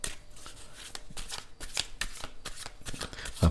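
Tarot cards are shuffled for a reading in a quick series of crisp riffling bursts, close and fairly loud, repeating in an uneven rhythm with no talk over them.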